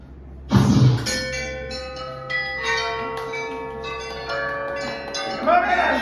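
A large bell hanging by the door of a wand shop in Diagon Alley rings once loudly, its bright metallic tone lingering and slowly decaying over several seconds, with faint voices in the room underneath.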